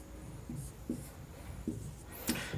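Faint, sparse scratches of writing on a board as chemistry names for alcohols and amines are written out, a few soft separate strokes over quiet room noise.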